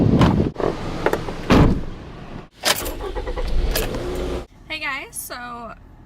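Someone gets into a car on the way to CVS: a door thuds shut, keys and movement rustle, then whirring electric power windows run in short bursts, close and fairly loud.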